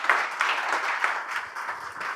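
Audience applause welcoming a trainer onto the stage at a company training session, a steady wash of many hands clapping at moderate volume throughout, no voices over it.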